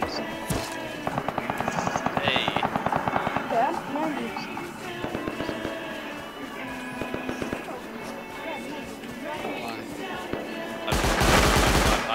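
Rapid bursts of submachine-gun fire in a multiplayer video game crackle in quick rattling runs throughout, with a louder dense burst near the end, while players talk over the shooting.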